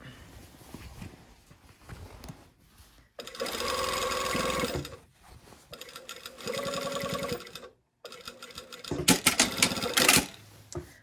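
Sewing machine stitching a pocket onto a lined garment body: several loud, rapid bursts of stitching of a few seconds each, broken by pauses and handling sounds, close up.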